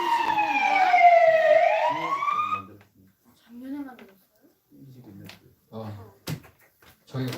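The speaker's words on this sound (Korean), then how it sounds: "저 사이렌을 켜고 저 사이렌을 들은 사람들이 이제 소방차가 가는 것들을 생각을 하고 바라보게 돼요" A fire engine siren wails loudly in one long sweeping rise and fall for about three seconds, then cuts off. Speech follows in the quieter stretch after it.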